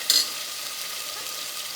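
Mutton sizzles and fries in a pan as it is stirred, a steady close hiss with a short scrape of the spoon at the start, no voices.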